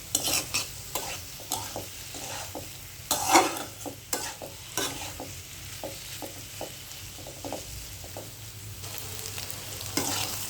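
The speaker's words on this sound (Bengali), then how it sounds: "ফাটাই রাখছিলাম যে ডিমটা, এখন ভালো করে নাড়াচাড়া করতে হবে" Beaten egg sizzles in a pan with pointed gourd while a spatula stirs and scrapes it in frequent close strokes over a steady frying hiss, with no talking.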